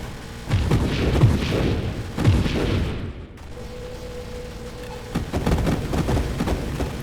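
Drones firing in a looter-shooter game during a Draft Mode Mayhem run, a barrage of rapid booming gunfire in dense bursts with a brief lull midway, loud and close, no voices.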